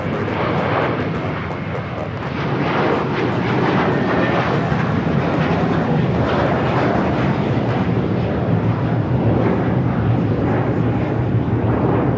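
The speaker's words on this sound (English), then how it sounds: "This is American Airlines 1590 taking off to Charlotte on the A321." An American Airlines Airbus A321 jet taking off at Los Angeles airport roars loudly and steadily with broadband engine noise that swells slightly and holds for the whole span, no voices.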